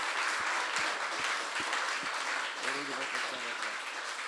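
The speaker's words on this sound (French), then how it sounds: "applaudissons pour le Seigneur." A congregation at a teen and pre-teen church youth camp claps for the Lord, a dense sustained round with a few low thumps early on and brief voices mixed in partway through.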